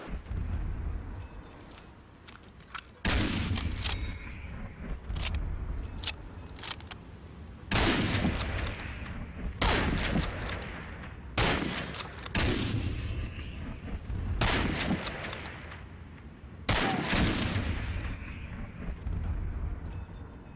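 Gunfire and artillery from the WWII shooter Medal of Honor: Allied Assault Spearhead: heavy booming blasts and bursts of rifle and machine-gun fire repeat in loud clusters every few seconds across a constant roar of battle.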